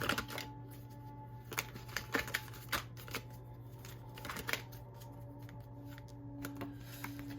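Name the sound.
cards being shuffled and drawn for a reading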